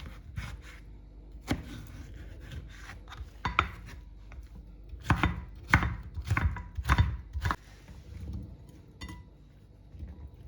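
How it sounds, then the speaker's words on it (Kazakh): A knife dices vegetables into cubes for a Greek salad, producing a run of sharp, close chopping knocks in irregular bursts with brief quieter stretches between, alone without any voices. "Кубик қып тураймыз бүйтіп"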